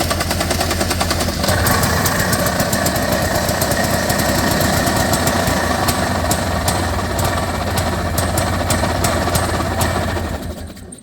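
A primed Honda Pilot engine fires and settles into a steady, fairly loud idle with a busy vibrating clatter, running evenly for about ten seconds before tapering off at the end.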